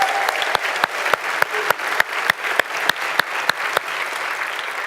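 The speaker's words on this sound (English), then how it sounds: "I think Henry and the entire team do deserve a round of applause." An audience at a democracy event applauds Henry and his team, a steady stretch of clapping with several sharp, distinct claps standing out over the crowd's rolling applause.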